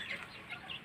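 Chickens clucking softly in a backyard, short overlapping calls repeating a few times at a fair distance, faint and steady with no talk.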